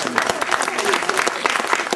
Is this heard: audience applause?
yes